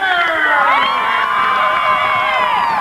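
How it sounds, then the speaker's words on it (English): A large, vocal hometown crowd cheers at a high school basketball championship in a gym, loud sustained shouting and whooping with many overlapping voices rising and falling, the sound close and filling the space. "We have a large vocal crowd from Shoreham."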